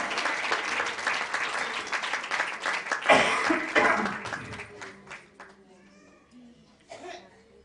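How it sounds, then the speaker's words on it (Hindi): A church congregation applauds loudly during a Hindi sermon, dense clapping filling the space for several seconds before thinning out toward the end. "जोरदार ताली बजाकर हमारे परमेश्वर का प्रेम के लिए हम धन्यवाद करें।"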